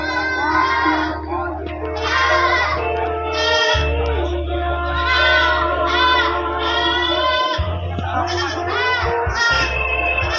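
Goats at a PE goat contest in Pacitan bleat repeatedly in loud, wavering overlapping calls over a steady low hum, with the crowd and a public-address voice faintly mixed in.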